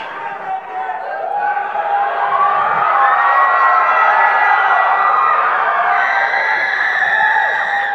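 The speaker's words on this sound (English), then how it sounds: "I don't know if they're cheering for you or for Squid Picnic" A large crowd cheers and screams loudly and steadily at a 2021 Utah PTA Battle of the Bands, a sustained roar of many voices that swells and holds near the listener.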